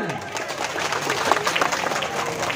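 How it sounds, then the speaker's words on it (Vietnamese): Crowd applause for a female wrestler at a village wrestling bout, a broad, steady patter of many hands clapping throughout. "Đề nghị quý khán giả chúng ta cho một tràng pháo tay cổ vũ cho cô gái của Hòa Bình"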